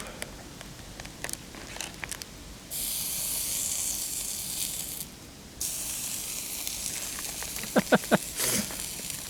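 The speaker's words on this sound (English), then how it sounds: "I think I'm gonna have to end up cooking some of that bacon directly on the stove" Bacon cooking directly on a camp stove outdoors, with a soft steady hiss and sizzle that swells for long stretches, light crackles and a few brief sharp clinks near the end.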